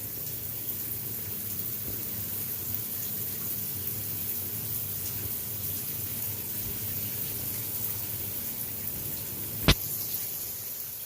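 Steady rush of running water from an 8.5 kW electric shower head, continuous and close, with a sharp click near the end.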